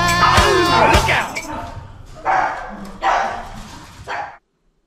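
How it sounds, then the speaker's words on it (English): A puppy on the back of a couch gives several loud, sharp barks spaced about a second apart, following an opening stretch of a singing voice with music. "I'm a puppy on the back of the couch, trying to protect this house."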